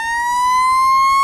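A fire truck siren from a ground mobility vehicle video game holds a loud, steady electronic wail with a slowly rising pitch, alone and close.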